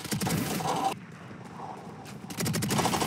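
Gunfire in the Valorant video game, played on an Acer Nitro V 15 gaming laptop: bursts of rapid shots at the start and end around a quieter middle stretch, fairly close but modest in level.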